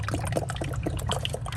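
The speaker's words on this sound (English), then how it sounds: "I'm gonna start with my 5 quart, and hopefully my funnel will stay in place and I won't spill that much" Motor oil from a 5-quart jug pouring through a funnel during an oil change on a 2004 Chevrolet Avalanche Z71, a short gurgling, trickling stream with small splashy blips, close and alone.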